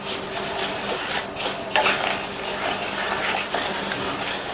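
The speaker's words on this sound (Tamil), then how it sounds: "நான் சேர்த்துருக்கிறது வறுக்காத ரவை, அதனால இதை 4 to 5 நிமிஷத்துக்கு வறுக்க போறேன்." Unroasted fine semolina dry-roasting in a pan over low-medium flame, stirred with a constant gritty scraping and faint sizzle, a few louder scrapes and knocks against the pan, nobody speaking.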